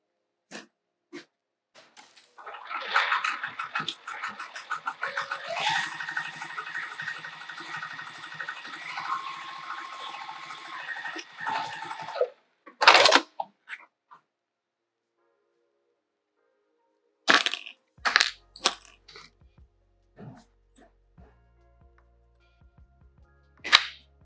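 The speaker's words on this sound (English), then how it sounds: "we're sewing right along that bottom seam" A sewing machine stitches along the bottom seam of a Barbados bag in one steady run of about ten seconds, its needle whirring with a fast, even mechanical rhythm. The run stops, then a few sharp handling clicks follow.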